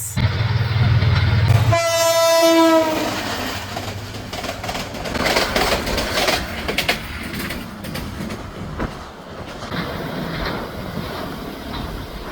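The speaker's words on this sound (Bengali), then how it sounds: "আন্তনগর তিস্তা এক্সপ্রেস" Tista Express intercity train near the Jhinai bridge rushing past at speed, opening with a loud blast of its horn, then a sustained roaring rumble and rattle of carriages close by.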